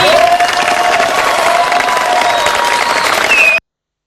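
Crowd applause from a large audience at a political speech, dense continuous clapping with some cheering, loud and steady until it cuts off abruptly.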